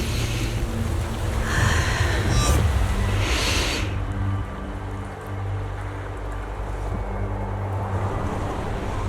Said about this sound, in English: The wind. It's shifting.